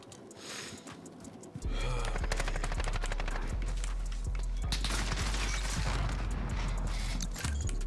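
Rapid automatic fire from an MP7 submachine gun in Call of Duty: Modern Warfare multiplayer, a dense sustained burst starting a couple of seconds in and running loud to the end, over a quiet opening.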